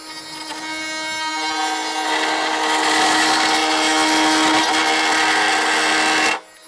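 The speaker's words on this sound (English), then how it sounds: "I'll do that with the multi-tool" Oscillating multi-tool cutting through cedar cladding, a loud high buzzing whine that builds and holds for several seconds, then cuts off abruptly near the end, close up with no talk.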